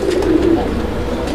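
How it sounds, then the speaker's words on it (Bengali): Breeding pigeons kept for eggs and chicks coo close by in soft, low, repeated murmurs, with no talking. "এগুলো ডিম বাচ্চা করানো কবুতর,"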